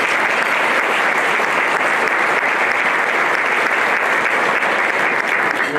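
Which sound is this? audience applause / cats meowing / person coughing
audience applause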